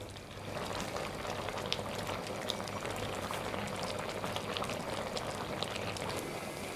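Chicken karahi boiling in a pan on a medium flame, a steady dense bubbling and sizzling that holds at an even loudness throughout, close and alone with no talk.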